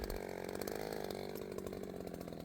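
Chainsaw cutting into a tree while felling timber, a loud continuous buzzing engine drone that holds steady throughout, close by and with no talk over it.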